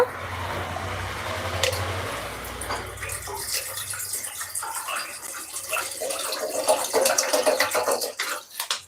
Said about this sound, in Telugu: ఒక గిన్నెలోకి కొబ్బరి నీళ్ళు తీసుకుంటున్నాను నేను